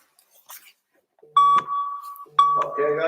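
Exercise timer beeps during a youth athletic training session: two sustained electronic tones, each lasting close to a second, with a voice speaking over and around them.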